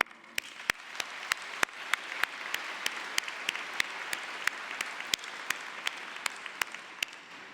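Steady applause from a convocation audience welcoming the platform party, moderately distant and even throughout, with sharper individual claps standing out at a regular pulse and no talking.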